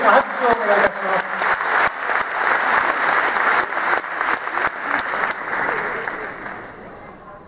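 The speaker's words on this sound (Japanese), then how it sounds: "新しいスローガンを考えてくださいました熊谷さんに大きな拍手をお願いいたします" Loud, sustained applause from a large crowd at a football club's new-season launch event fills the whole stretch, with many hands clapping together before slowly tapering off.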